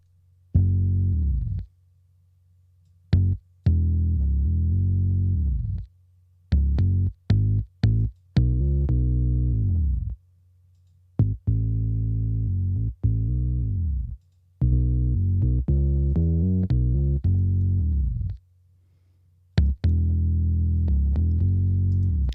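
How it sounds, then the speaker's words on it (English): An electric bass guitar saturated and distorted through a compressor plays a choppy soul/R&B riff of short and sustained notes with gaps of silence, loud and upfront. "on this compressor I've actually dialed in some specific saturation, some nice distortion, just to help color the sound"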